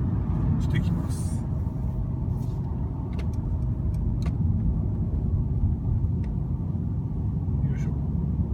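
Mercedes-Benz C220d clean diesel engine while driving, a steady low rumbling drone heard from inside the car, with faint light clicks and knocks over the constant road and engine noise.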